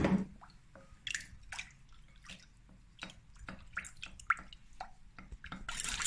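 About 20 ml of lukewarm water poured over honey to dissolve it, heard as scattered close splashes and drips with small bursts between quiet gaps.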